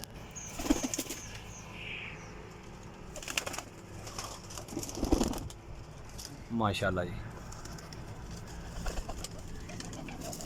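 Champion-bred pigeons flutter their wings in short bursts against a steady background hum, with soft cooing, a few clinks and a brief spoken remark.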